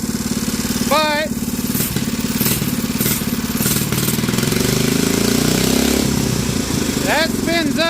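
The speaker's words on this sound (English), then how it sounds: "That engine is one hell of a hodgepodge, but it's running. It only runs on half choke because it's got the wrong head on it." A Bolens Husky 800 garden tractor engine, fitted with the wrong cylinder head and running on half choke, chugs steadily and loudly close by throughout, with sharp whistle-like chirps and people talking over it.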